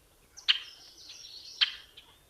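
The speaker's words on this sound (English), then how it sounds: "our rusty blackbird with the rusty creaking gate" A rusty blackbird gives two squeaky, creaking notes like a rusty gate hinge, each a short sharp burst trailing into a thin drawn-out whine, fairly close against a quiet background.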